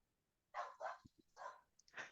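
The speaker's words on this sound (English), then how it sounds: "I don't know if you heard my dog." A dog barks in a home, several loud close barks in two bursts with short gaps, followed by a couple of softer yips, with no talking.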